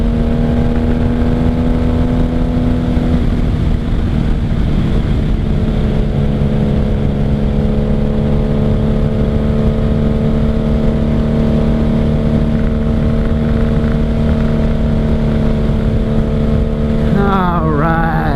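Motorcycle engine droning loud and steady while riding at night, a constant close hum with wind noise and a slight pitch shift near the end, with no talking.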